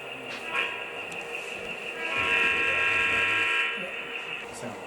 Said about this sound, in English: So here it is coming out of the engine facility, and tie onto its train